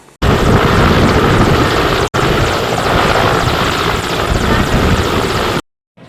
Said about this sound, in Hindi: बाढ़ में फंसे लोगों की मदद के लिए हेलीकॉप्टर पहुंचा।